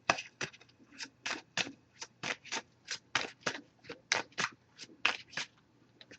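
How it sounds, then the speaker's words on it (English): Oracle card deck being shuffled by hand, a quick run of crisp papery riffles and flutters in steady bursts, close and fairly quiet with a faint low hum underneath. "I did pre-shuffle this deck, but I'm gonna give it a few more shuffles here."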